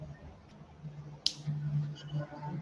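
A single sharp finger snap, close and crisp, rises briefly above a quiet room with a low hum, followed by faint murmuring voices.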